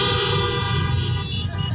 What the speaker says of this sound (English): Now, if you know someone who has survived cancer, honk your horn.